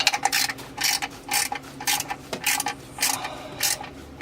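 Torque wrench clicking and ratcheting while clutch and flywheel bolts on a Honda are tightened in a crisscross pattern, giving repeated bursts of mechanical clicks at a steady rhythm, close and fairly loud with no talk.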